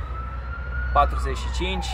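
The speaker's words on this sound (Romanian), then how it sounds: "Îmi cer scuze că se aude o ambulanță." An ambulance siren wails outside in the distance near a 2023 Jeep Compass, a long rising and falling tone heard faintly while someone speaks briefly over it.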